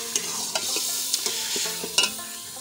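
Spices being stirred into a frying masala of tomato, green chilli and crushed garlic, with sizzling underneath and several scraping, clattering strokes of the spoon close by.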